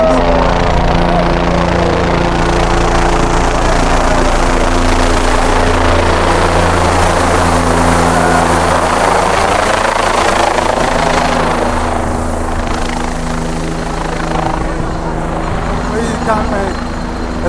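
A helicopter at the Mahakumbh Mela in Prayagraj drones with a continuous engine and rotor rumble, loud and steady for the whole stretch, with voices talking over it.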